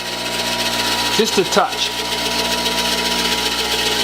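A bench grinder hums steadily at close range while a twist drill bit is sharpened against the wheel, with a brief spoken remark over the constant whir.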